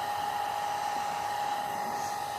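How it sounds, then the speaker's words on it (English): A hair dryer blows steadily at close range drying a watercolour painting, a constant whirring hum with airy hiss, unbroken and alone. "I'm using a hair dryer"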